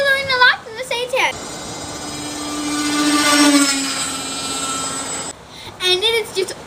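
A Blitz RC A-10 Warthog model plane flies overhead with a steady high whining electric ducted-fan drone that swells and fades, with voices talking before and after the pass.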